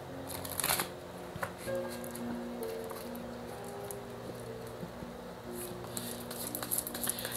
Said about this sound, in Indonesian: Kita lihat penjelasannya dari kartu tarot.